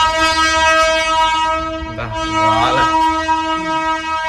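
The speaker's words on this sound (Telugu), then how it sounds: "కంటిన్యూస్ గా కొడుతున్నారు హార్న్" A vehicle horn blares continuously near a home, a loud steady tonal drone that holds with only a brief dip partway through.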